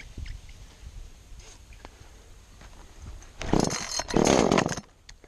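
An Echo 355T chainsaw is pulled to start after being choked and primed; quiet rustling and handling noises lead up to a loud, rough burst as the engine tries to catch and sputters briefly.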